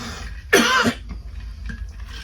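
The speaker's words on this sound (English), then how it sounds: "I will stop coughing" A single harsh cough bursts out close to the microphone, followed by quiet room tone.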